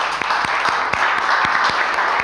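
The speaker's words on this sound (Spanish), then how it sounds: "me gustaría que le diéramos un aplauso a nuestros compañeros" Audience applause at a conference, steady mass clapping with a few individual claps standing out distinctly close by, fairly loud throughout.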